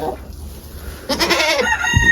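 A Rhode Island Red rooster on a farm crows once, fairly close and loud, with a rising call in the second half of the clip and outdoor farmyard ambience before it.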